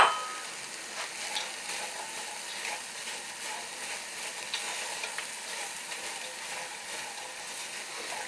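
Leeks fry in a pan with a steady, gentle sizzle, and the scrape and clink of stirring rise now and then over the crackle as a vegetable stew base softens.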